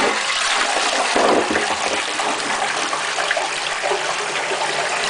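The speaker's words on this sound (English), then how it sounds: "First things first, you want to give it a flush to get some weight behind it." A household toilet being cleared of a clog flushes with a steady, loud rush of water that continues throughout, close by and with no talk.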